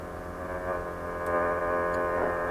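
A steady droning hum comes from a Sony ICF 7600 radio receiving a 27.145 MHz pulse-modulated R/C Varioprop 6 transmitter tone, buzzy and continuous at a constant level with no talk.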